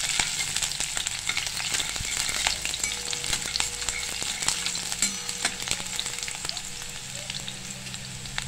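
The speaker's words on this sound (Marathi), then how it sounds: "आता हे आपल्याला परतवून घ्यायचं, छान ते असं परतून घ्यायचं लसूणचा कलर बदलेपर्यंत" Green chillies and garlic sauté in a pan for lasooni methi, giving a steady, close, continuous sizzle and frying hiss with occasional stirring clicks.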